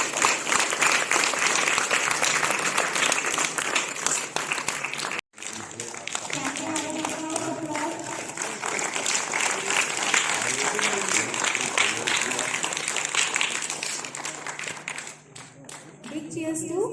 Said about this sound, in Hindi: तालियों की गड़गड़ाहट गूंजती चाहिए।